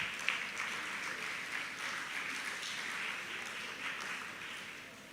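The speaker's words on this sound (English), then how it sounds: "please let us clap for ourselves for attending this party." Audience clapping at the NLNG book party for the 2024 longlist, a soft, steady wash of applause from a crowd heard at some distance, tapering off at the end.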